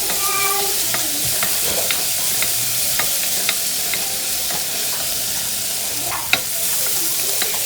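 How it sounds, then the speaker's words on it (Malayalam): Prawns sautéing in a pan for Kerala-style chemmeen roast, a continuous loud sizzle with scraping, stirring clinks of a utensil, and no talking. "നന്നായിട്ട് സോട്ട് ചെയ്യാം."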